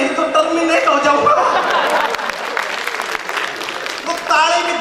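Applause from an audience at a Hindi poetry performance by a Haryanvi poet at Dogma Soft Limited in Jaipur, steady and fairly loud across the clip, with scattered laughter and voices mixed in.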